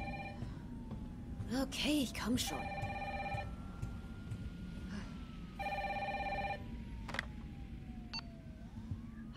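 A telephone rings in Resident Evil 3 Remake, its repeated bell bursts sounding moderately close over a low in-game ambient hum, while someone speaks briefly in German alongside it.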